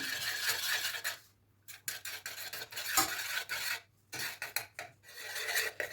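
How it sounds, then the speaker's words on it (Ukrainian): Rasping, scraping stirring as baking soda is mixed into a melted mixture in a pot, coming in uneven strokes with short pauses between them, close and moderately loud. "Все гарно розтопилося, тоді додаємо соду, перемішуємо."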